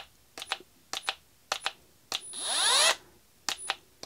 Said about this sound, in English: This is an M12 fuel wrench.